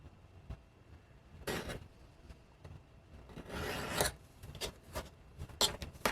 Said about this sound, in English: is an edge beveler. And it does exactly what the name would imply. It's run along the edge, and it cuts off the sharp edge.